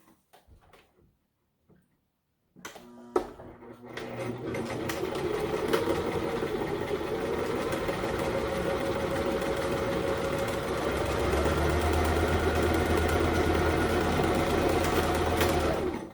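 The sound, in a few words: sewing machine stitching fabric for a face mask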